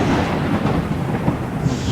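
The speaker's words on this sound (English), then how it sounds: "I finally got the thunder sound effect back" A thunder sound effect rolls as one continuous deep rumble, heavy and steady from start to finish, with no voices over it.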